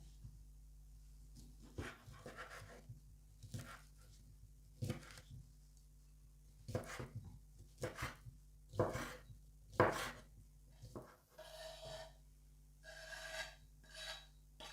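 A knife slicing through hunting sausages on a cutting board, with a run of separate cuts and light knocks. Each stroke is near and fairly crisp, heard on its own without any talking.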